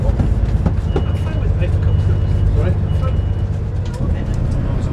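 A train stands at Warrington Bank Quay station with a loud, constant low rumble of engine and rail noise, while voices and station sounds carry over it.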